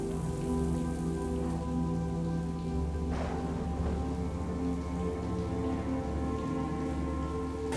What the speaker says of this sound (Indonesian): beneran hujan kan?